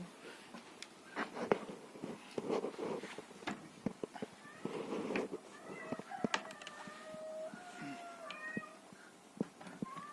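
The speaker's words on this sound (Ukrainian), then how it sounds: "Коти вже м'явкають." Cats meow and yowl repeatedly against a busy background of clucking bantam chickens and scattered knocks, with some indistinct voices mixed in.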